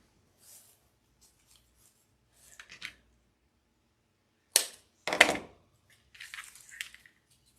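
Scissors snip through tulip flower stems while a spring yellow tulip wreath is assembled: a few soft rustles, then a couple of sharp, close, crisp cuts followed by brief crunchy handling, with no talking.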